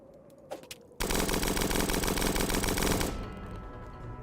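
Automatic gunfire from a weapon in the video game Starbound bursts out in a loud, continuous rapid stream for about two seconds, preceded by a couple of faint clicks and trailing into a quieter tail.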